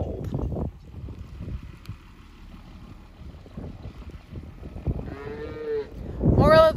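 Cattle moo on a farm in the rain, with a drawn-out low moo near the end following a quieter stretch of patter and background noise, plus a brief loud burst at the very end.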